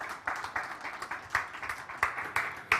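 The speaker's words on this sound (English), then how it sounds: "Let's give some applause." Applause from a small audience at a health tech pitch event, fairly faint and sparse, with individual claps standing out in an uneven rhythm rather than a dense roar.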